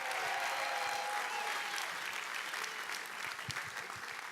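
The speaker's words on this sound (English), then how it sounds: "Give them a round of applause" Audience applause fills a live dance show, a steady dense wash of clapping from a large crowd that thins slightly toward the end, with a faint held tone underneath.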